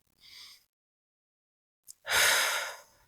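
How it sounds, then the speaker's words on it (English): A single deep breath: a short inhale, a pause, then a long, loud, close exhale like a sigh, with no talking. "Let's take a big, deep grounding breath together."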